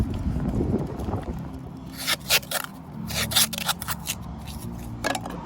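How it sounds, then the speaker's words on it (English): Masking tape tears and rips in several sharp bursts as it is wrapped to build a paper template for a custom big exhaust side pipe, heard close over low background noise with no speech. "you just get some masking tape and you tape this thing together"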